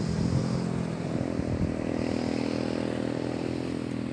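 1989 Honda CB1 400cc inline-four motorcycle idling and rumbling nearby, a steady low engine drone with a brief rougher burst early on and an even tone afterward, with no voices.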